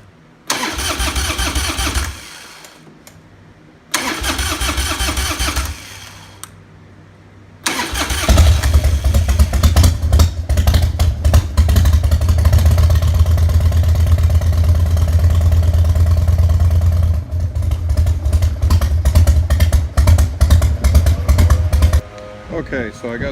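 A Harley-Davidson FXDL with a BikeMaster battery cranks in two short starter bursts separated by pauses, then fires and settles into a loud, steady, close idle that runs for the rest of the clip.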